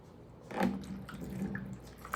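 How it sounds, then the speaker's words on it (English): Distilled water is poured into a container for watering orchids, a short close trickle and splash that swells briefly and then fades to a soft dribble, no talk. "I'm going to go ahead and pour this in here."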